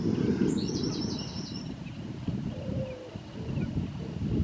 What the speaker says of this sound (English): There's loads of birds just flying past.